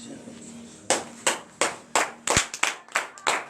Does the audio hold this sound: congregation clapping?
yes